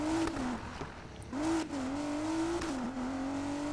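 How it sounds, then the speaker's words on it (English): An Audi S5 engine in Need for Speed Payback revs and climbs through gears, its pitch rising and dropping at each shift with brief tire noise, loud and up close with no voices. "This is the Audi S5."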